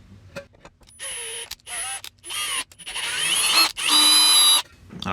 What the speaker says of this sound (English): You didn't used to be able to accurately tap with a drill until they came out with these nice brushless motors